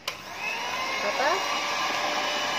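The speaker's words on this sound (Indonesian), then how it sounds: "Setelah itu kita mixer." An electric hand mixer whirs steadily through nastar cookie dough, a continuous close-up drone that keeps an even pitch from start to finish.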